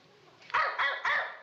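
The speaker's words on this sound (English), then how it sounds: "he starts every other dog in the neighborhood to barking" A neighborhood dog barks three times in quick succession, close and fairly loud, each bark short and sharp.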